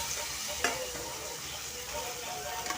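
Tomatoes sauté in hot oil for a tomato thokku, giving off a soft, steady sizzle and crackle that stays fairly quiet and even throughout.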